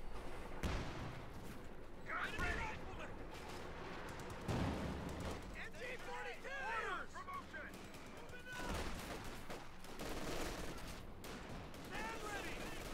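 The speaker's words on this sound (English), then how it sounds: "There's a rifle grenade." Rifle grenade fire and scattered gunfire in Company of Heroes 2, a WWII strategy game, with repeated sharp bursts and blasts over steady battle noise while a commentator talks throughout.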